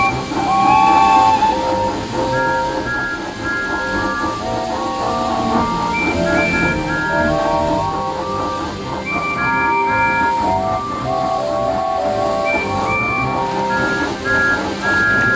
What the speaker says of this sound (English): The engines whistled loud and long.